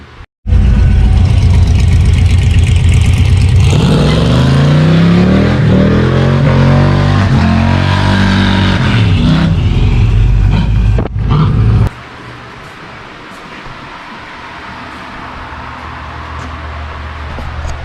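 A Chevrolet C-10 shop truck with an exhaust leak revs hard at a cruise-in, its engine roaring loud and close with rising and falling pitch sweeps, then cutting abruptly to a lower, rougher idle.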